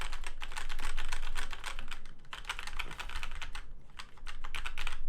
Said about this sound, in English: We should maybe try to click the switch.